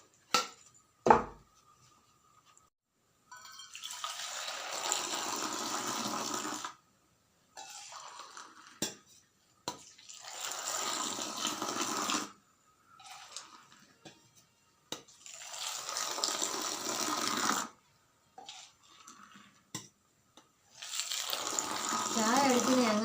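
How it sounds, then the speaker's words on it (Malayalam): Hot milk tea being poured back and forth between two vessels to froth it, in the manner of a tea stall. Several long splashing pours come in steady bursts with short pauses between them, close and clear. "ചായ അടിക്കുന്നത് എങ്ങനെയാണെന്ന് ചേട്ടന്മാർക്കും ചേച്ചിമാർക്കും ഞാൻ കാണിച്ചു കൊടുക്കുക"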